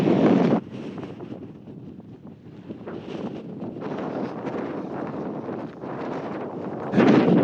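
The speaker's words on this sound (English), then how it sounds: "Wind must be 35 miles an hour." A strong desert wind of about 35 mph blows over soft sand, roaring steadily and close against the microphone. It keeps surging in loud gusts, with no talking.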